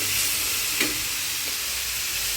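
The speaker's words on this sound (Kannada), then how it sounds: "ಚೆನ್ನಾಗಿ ಫ್ರೈ ಮಾಡಬೇಕು. ತರಕಾರಿ ಚೆನ್ನಾಗಿ ಫ್ರೈ ಆದ ಮೇಲೆ" Vegetables for vegetable Maggi fry in a pan with a constant hissing sizzle and one or two faint stirring scrapes, and no one speaks.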